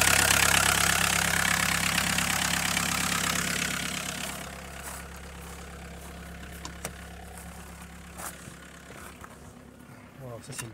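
A vehicle engine with a diesel injection pump runs after a major overhaul, idling with a steady rumble that is louder at first and then settles lower and quieter.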